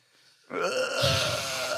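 A single sudden human sneeze, loud and close, bursting out after a brief quiet moment during a casual podcast conversation.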